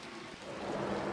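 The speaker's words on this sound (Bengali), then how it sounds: "আমি বাইরে যাব আর এই সময় বৃষ্টি শুরু" Steady rain falling outdoors, a dense continuous hiss that swells slightly louder toward the end, with no voices over it.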